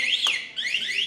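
An NXT Lusso e-bike alarm gives a loud, close, rising and falling electronic siren wail that is briefly broken by a click before it resumes.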